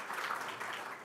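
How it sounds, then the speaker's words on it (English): Audience applause at a security conference closing ceremony, a steady even wash of many hands clapping for the AV crew, filling the whole short stretch at moderate loudness with no talk over it. "give them a round of applause"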